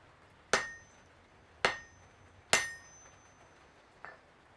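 Three sharp, ringing hammer blows on an anvil in a blacksmith's smithy, about a second apart, each decaying with a metallic ring, followed by a lighter tap; close and clear in a quiet room.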